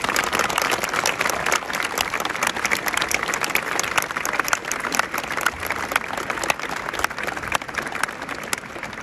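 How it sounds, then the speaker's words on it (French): A large audience in Dresden gives sustained, dense applause after a speech by Macron. The clapping holds steady and loud throughout, with faint crowd murmur underneath. "Nous pouvons ici les applaudir."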